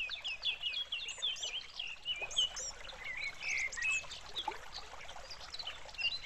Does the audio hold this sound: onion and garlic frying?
no